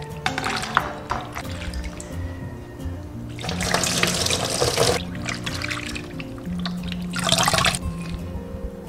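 Wood ear mushrooms rinsed under a running kitchen tap, with bursts of splashing water and handling noises coming and going in a few distinct surges, fairly close.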